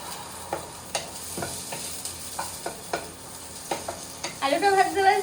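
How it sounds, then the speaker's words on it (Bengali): Potatoes fry in a pan with salt and turmeric, giving a quiet, close sizzle broken by repeated scraping stir strokes at an uneven rhythm, ending in a brief louder burst of crackling. "এদিকে আলু ভাজা প্রায় হয়ে এসেছে, একটু এপিট ওপিট করে ভেজে নিই"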